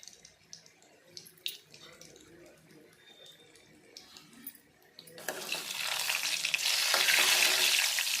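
Lentils and dal pieces fry in oil for a coconut curry; faint clicks and stirring give way to a sudden loud, steady sizzle in the second half.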